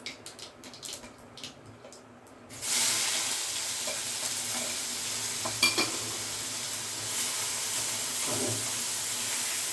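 Onion hits hot oil with popped mustard seeds, garlic and curry leaves, bursting into a loud continuous sizzle after a quieter stretch of faint crackles and clicks, with a few stirring knocks along the way.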